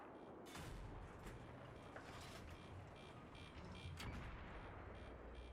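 Gunfire strikes the side of the player's tank during a Battlefield 3 campaign battle, a dense, continuous barrage of sharp impacts and explosive cracks over a heavy rumbling engine and battlefield roar.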